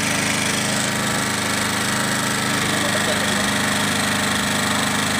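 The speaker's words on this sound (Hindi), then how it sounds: "अब देखिए मोटर चल रही है" Honda E-series genset running an electric motor under load, a steady loud drone with a constant engine hum and buzz that continues unchanged, close by.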